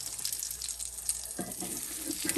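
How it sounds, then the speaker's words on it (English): Juice from a leftover birria roast is strained off with a slotted spoon, making a steady wet trickle and slosh of liquid that thickens partway through. "Now I'm gonna take a slotted spoon. And I'm gonna strain off some of that juice, not all of it."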